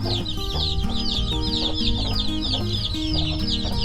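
Hens and young chicks cluck and peep continuously at close range, with overlapping high chirps above lower clucks and no talk.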